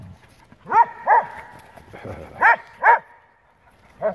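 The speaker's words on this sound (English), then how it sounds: "Are you listening to Duke snort?" An Airedale terrier makes a series of short, sharp snorting bursts close by, about six separate huffs spaced irregularly with brief quiet gaps between them.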